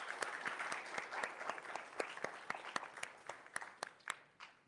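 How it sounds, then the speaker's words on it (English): Audience at a queer poetry reading event giving a round of applause, scattered clapping from a modest crowd with crisp individual claps, fairly faint and tapering off toward the end. "So give yourselves a round of applause,"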